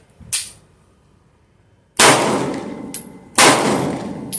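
Gunfire at a shooting range strikes a metal target: a faint shot is followed by two loud, sharp reports, each with a bright metallic ring trailing after the impact, separated by short quiet gaps.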